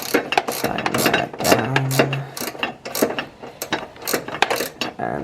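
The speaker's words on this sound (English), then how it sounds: "So, grab our ratchet here." A ratchet wrench tightens bolts while assembling a Presea car build, giving quick repeated mechanical clicks from the pawl in close, loud bursts, with a faint tonal hum partway through.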